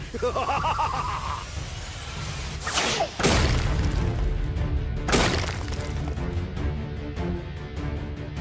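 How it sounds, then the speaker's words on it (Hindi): A cartoon explosion: a loud crashing blast with shattering debris, followed by a second impact, amid ongoing rumbling noise and music. "वहाँ से आई है आवाज, यानी वही हुआ है धमाका।"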